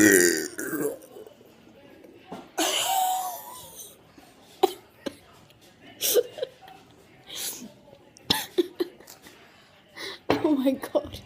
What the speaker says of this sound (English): Burp one. Still got lots of soda to go.